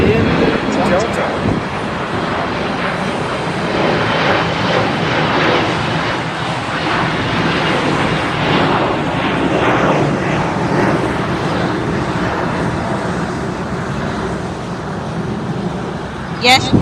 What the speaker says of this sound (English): from San Jose del Cabo with a Boeing 737-900R. Welcome in Delta.